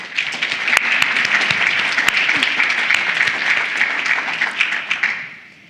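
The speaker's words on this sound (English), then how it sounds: "Please, another round of applause for the representative." An audience at a legal services anniversary forum claps steadily for about five seconds, with a few sharper claps standing out, before the applause fades away.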